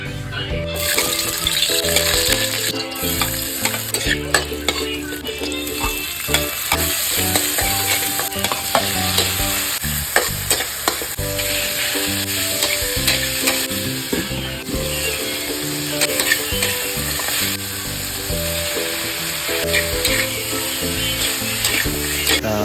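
Pork sautéing in a pan for pakbet, a loud continuous sizzle with stirring scrapes close by, under a bed of background music.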